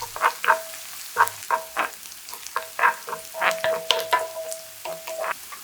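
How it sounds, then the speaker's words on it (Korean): Chili powder stir-fries with onion in a hot pan, giving crackling sizzles and scraping strokes in an uneven rhythm, close and fairly loud. "고춧가루 약간을 넣고 볶아서 매콤한 풍미를 살려주세요"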